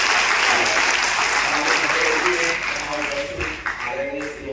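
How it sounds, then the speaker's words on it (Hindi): A crowd at a coaching centre ceremony for top-scoring students bursts into loud, dense applause that tapers off near the end. Voices carry through the clapping. "एक बार तालियां बजाइए।"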